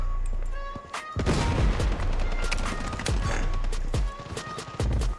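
Gunfire in the video game BloodStrike crackles in rapid bursts of sharp shots, close and loud, with short gaps between volleys.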